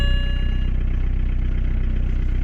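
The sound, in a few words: BMW 118d diesel car engine starting and idling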